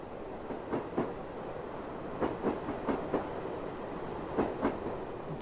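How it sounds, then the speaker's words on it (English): A train rolls unseen along the rails of the Wherry Lines in a train simulator game, its wheels giving clusters of rhythmic clickety-clack beats over a steady rumble, with no talking. "Listen to this. We've got ourselves a ghost train."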